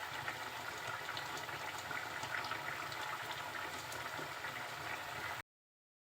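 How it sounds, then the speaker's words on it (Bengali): Hilsa fish and pumpkin curry simmering uncovered in a pan, a steady, close bubbling and sizzling hiss that runs without a break before cutting off abruptly near the end. "রান্নাটা প্রায় আমার হয়ে আসছে, কিন্তু ঝোলটা একটু কমানোর জন্য রেখে দিয়েছি।"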